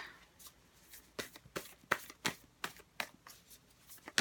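Tarot cards are shuffled and drawn in a quick run of crisp, close riffling snaps, about a dozen sharp bursts in a quiet room.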